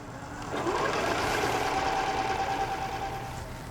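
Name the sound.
sewing machine sewing a zigzag stitch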